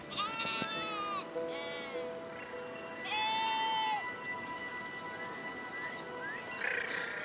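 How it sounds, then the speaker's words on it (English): Sheep in a flock of about 300 bleat repeatedly in Transylvania, several animals calling in turn at moderate distance over a steady outdoor hiss, with no one talking. "Petre Clem has 300 sheep in his care."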